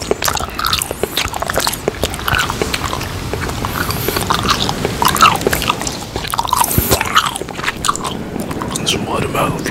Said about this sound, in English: Today, I'm eating a giant bubble gum.